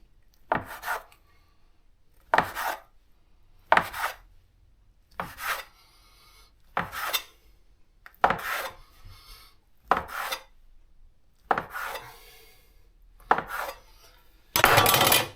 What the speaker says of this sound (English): And just cut into sizes, maybe